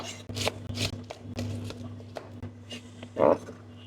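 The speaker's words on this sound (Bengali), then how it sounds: "এটা স্লাইস করে নিচ্ছি আপনারা এখানে দেশি রসুনটা ইউজ করতে পারেন" A knife slicing garlic cloves on a cutting board in a home kitchen where dal is being cooked, a run of short crisp cuts spaced through the moment and ending in one louder chop, heard close up with a steady low hum behind.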